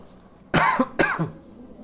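Two harsh coughs close together, loud and near, followed by quiet.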